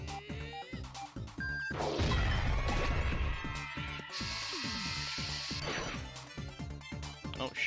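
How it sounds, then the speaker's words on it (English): A Quake Hammer attack lands in Paper Mario: The Thousand-Year Door, a heavy smashing crash with a rumbling low impact around the middle, over rhythmic background game music and no talking. "Do the Quake Hammer again?"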